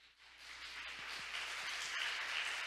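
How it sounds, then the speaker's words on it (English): A conference audience at a maritime sector event applauds a speaker being welcomed, a steady wash of many hands clapping that swells slightly and holds, heard from some distance at moderate volume. "Let's welcome him with a huge round of applause."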